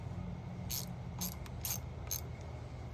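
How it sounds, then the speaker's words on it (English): A ratchet wrench cracks loose a bolt on a 1994 Evinrude 25hp two-stroke outboard during an ignition coil change, giving four quick bursts of sharp pawl clicking over a steady low background hum. "Looks like we'll have to loosen this one first before we get to that bolt down there."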